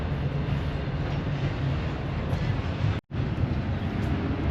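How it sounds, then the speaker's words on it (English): A slow cargo train rolls past nearby as a loud, steady rumble and roar with a brief cutout partway through; no talking. "the train, the cargo train,"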